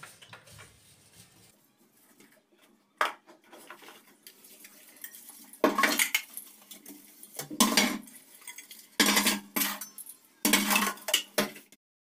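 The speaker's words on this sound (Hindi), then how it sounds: "उससे पहले बर्तन धुल लेते हैं और किचन साफ सफाई कर लेते हैं।" Dishes, pots and cutlery clatter and clink in intermittent bursts as items are handled and washed, close by in a quiet room.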